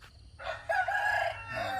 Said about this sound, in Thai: ตอนเช้าบรรยากาศก็จะเป็นประมาณนี้ครับเสียงไก่เสียงอะไร